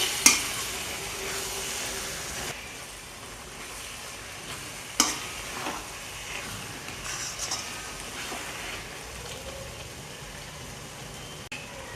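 Hand-crushed papdi tossed into a sizzling vegetable dish for Mehsana-style dungliyu, soft crackling sizzle with a few sharp clatters as pieces drop and the pan is stirred, no voices.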